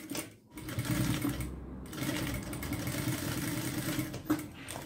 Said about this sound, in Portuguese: Agora, eu passo uma costura aqui embaixo, só no PVC.